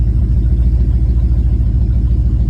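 A 1968 Lincoln Continental V8 fitted with Holley Sniper EFI runs with a steady, smooth low rumble, close and continuous without revving or talk.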